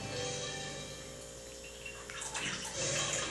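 Coffee is poured through a filter a second time, a soft steady trickle of liquid that swells into a fuller splashing pour near the end, close and fairly quiet.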